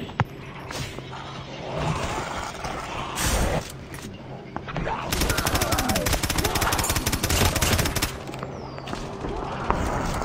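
Rapid bursts of automatic gunfire with sharp mechanical clicks and clatter, dense and loud, over a busy background of noise from a zombies video game on the Shi No Numa map.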